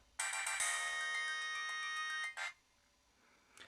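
A mobile phone plays its switch-on ringtone, a loud, bright electronic melody of sustained tones lasting about two seconds that then cuts off, followed by a faint tail and near silence.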